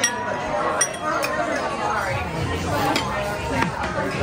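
Drinking glasses clink together in a toast at a nighttime Halloween and birthday gathering, a few bright taps rising over lively chatter and overlapping voices.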